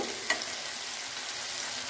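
Steady hiss of food frying in a hot wok, with a brief scrape of stirring early on; no voices.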